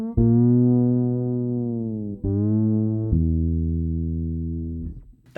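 An Alembic Series II eight-string fretless bass on its bridge pickup plays three long sustained notes, each held for a second or two with clean, rich harmonics, alone with no voices.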